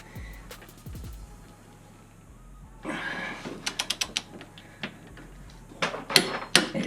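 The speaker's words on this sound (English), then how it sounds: "Now we're tightening down to the factory spec of what they were looking for, 86 foot-pounds, using the torque wrench." A torque wrench tightening hitch bolts on a Toyota RAV4 gives several sharp ratcheting clicks in short bursts, close and fairly loud, over a low steady hum.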